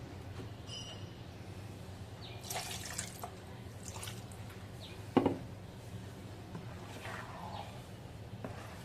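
Water poured into thick ground dosa batter in a home kitchen, a soft, faint splashing and trickling in a couple of short bursts over a low background hum.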